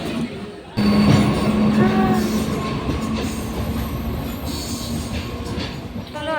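A train rumbles along near Salanpur station with steady rail noise and brief high wheel squeals, heard from inside a carriage.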